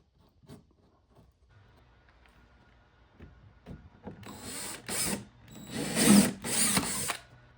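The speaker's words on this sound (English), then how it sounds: "If you're not comfortable with your drill, you can always set the torque so low." A power drill drives coated deck screws into the cedar boards of an ice chest lid, with short whirring bursts building toward the end after quiet handling noises at the start.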